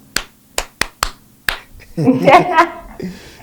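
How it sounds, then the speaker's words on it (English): Five sharp, distinct hand claps ring out close and loud in an uneven rhythm, then a person starts talking after them. "a round of applause to you"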